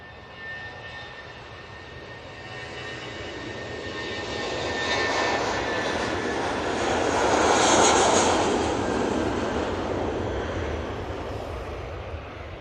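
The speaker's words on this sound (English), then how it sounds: "A320 on the roll." An Airbus A320 on its takeoff roll at Manchester Airport gives a broad, steady jet engine roar that builds to a peak midway and then eases slightly, heard from a distance with no voices.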